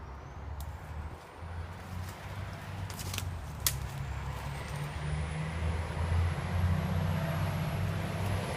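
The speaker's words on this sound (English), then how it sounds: "You can obviously hear the lorry." A lorry or coach rolls past on a nearby road, its low engine drone building steadily and loudest toward the end, with a faint hiss and a few sharp clicks along the way.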